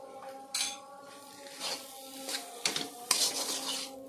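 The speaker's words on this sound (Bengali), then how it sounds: "আলু আর মটরশুঁটির সঙ্গে ভালোভাবে মিশিয়ে নেব।" Boiled potatoes and green peas being mixed with salt, chili powder and turmeric for pea cutlets, giving intermittent soft scrapes and light clinks of a utensil against a pan or bowl, with a few sharper knocks.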